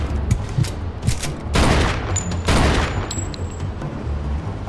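Bursts of gunfire from the Mafia 2 video game, with rapid automatic volleys and loud sustained fusillades crackling close by, broken by short pauses, with no talking.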